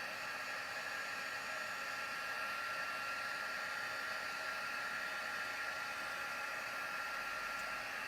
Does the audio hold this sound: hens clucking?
no